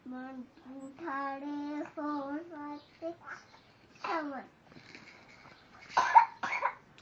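A young child, sick with a cough, gives a few short coughs amid babbling and chatter from a small child, with quiet gaps between the sounds.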